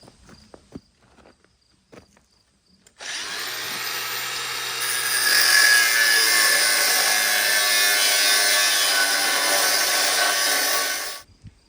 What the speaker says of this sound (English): we're going to use our grinder and chop those up